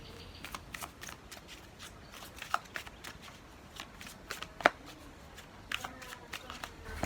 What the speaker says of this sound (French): Je vais lancer quelques cartes.